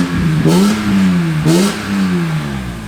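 BMW E46 M3 engine revved twice in quick blips, each rising then settling into a deeper exhaust rasp, loud and close, with a steady idle rumble between the blips and no talking.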